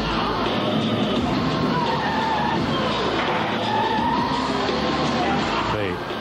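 Car tyres skid and squeal in a Hankook tyre advert on French television. The squeal is loud and continuous, with smeared screeching tones over a dense, busy mix, and a voice may be present in the background.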